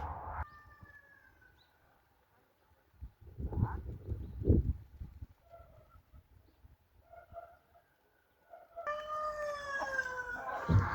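Chickens clucking and calling nearby, with scattered soft clucks and rustling, then a louder burst of overlapping squawks and crowing near the end.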